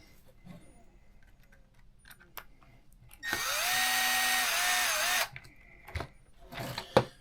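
A cordless power drill tightening screws on an Arrma Mojave Grom RC car during a wide-kit install, one sustained two-second whirring burst amid quiet clicks and handling noises.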